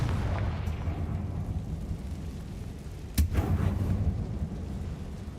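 A Confringo blasting spell from Hogwarts Legacy goes off in one sharp, near burst midway through, over a low rumbling game ambience with no talk.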